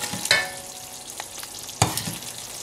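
Spicy chicken wings in a pan with rich sauce and sesame oil being ladled over them, a soft sizzle with a few sharp clinks and stirring scrapes, close and moderately loud.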